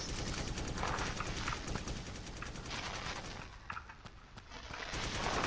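Rapid gunfire from a shooting video game as a player aims for enemy headshots: dense, fast bursts of shots that run almost continuously, dip briefly and then pick up again at moderate loudness.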